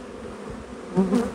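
Honey bees buzz steadily in a log hive, a dense close hum that swells louder for a moment near the end.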